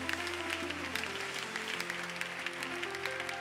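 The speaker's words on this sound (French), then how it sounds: "Quelqu'un acclame encore Jésus pour ce culte." A church congregation applauds during a worship service in a steady, dense wash of clapping that holds for the whole stretch, with faint sustained tones underneath.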